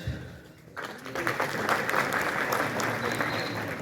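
Audience applause at a large community event in Karor Lal Esan, a dense wash of clapping that swells after a quiet start and holds steadily for several seconds with no talking over it.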